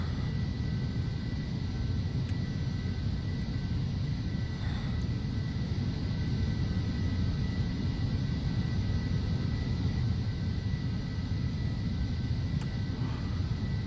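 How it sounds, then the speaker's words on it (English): Phenom 300 jet rolling down the runway and slowing, heard from inside as a steady loud low rumble and broadband roar with faint engine whine, unchanging throughout. "we'll kind of just coast the airplane down to the end of the runway and slow it down"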